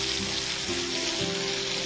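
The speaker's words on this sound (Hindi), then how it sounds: "फिर हम इसमें ये टमाटर डालेंगे जी, और इसको बहुत अच्छी तरह से भूनेंगे।" Chopped tomatoes sizzle and fry in a hot pan, a steady crackling hiss running throughout at moderate volume, close up and without any talking.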